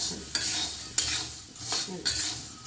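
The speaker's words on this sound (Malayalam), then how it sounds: "ഇങ്ങനെ നമ്മൾ കൈ ഇളക്കിക്കൊണ്ട് ഇടവില്ലാതെ ഇളക്കണം" Roasting peanuts are stirred continuously by hand in a pan, giving a close, rhythmic rattling swish about once every half second, with each stroke rising and fading over a faint sizzle.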